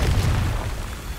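A Confringo fire spell in a Harry Potter video game goes off as one deep, rumbling blast that fills the low end and lingers steadily without fading.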